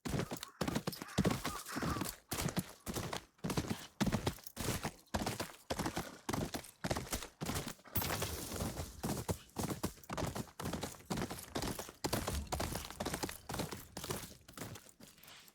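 Hooves of a horse galloping under a rider in Ghost of Yotei pound in a fast, steady rhythm for the whole stretch, loud and close, with brief whinnies and no talk over it.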